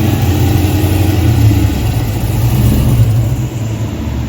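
A classic car's engine runs loud and close with a deep, steady rumble as the car drives off, then eases slightly toward the end.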